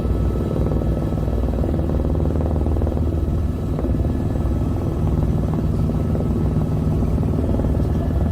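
Incoming helicopter heard as a steady, loud, droning rotor and engine noise that holds constant throughout, with no talking.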